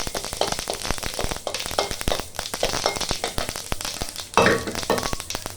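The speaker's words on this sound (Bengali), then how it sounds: "ওই তেলের মধ্যে আমি দিয়ে দেবো সরষে ফোড়ন" Mustard seeds, a blend of white and black, crackle and spit in hot oil with a dried red chili, a dense run of sharp pops and sizzle, with a louder burst of spattering near the end.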